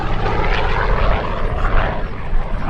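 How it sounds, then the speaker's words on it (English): A vintage F4U Corsair propeller fighter performs an eight-point hesitation roll at an air show, its big radial engine roaring loud and steady overhead with no voices. "this airplane now doing the 8-point hesitation roll"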